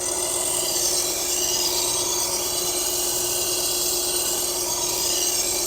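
A Global kitchen knife blade ground on an AMK-75 belt sharpener fitted with a 3M Cubitron belt, giving a steady, continuous abrasive hiss with a constant motor whine running throughout, loud and close.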